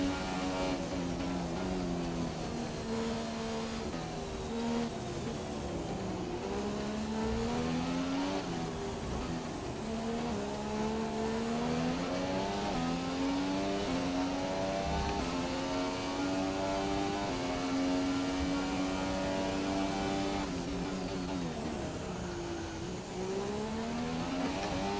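A McLaren Formula 1 car in F1 2017 laps the China Grand Prix circuit, its high-revving engine screaming continuously and rising and falling through gear changes, loud and close with no talk.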